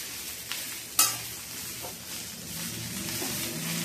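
Green chilli, cumin and grated coconut fry in a pan with a low steady sizzle, broken by a sharp metallic clink of a spoon early on, close and moderately quiet.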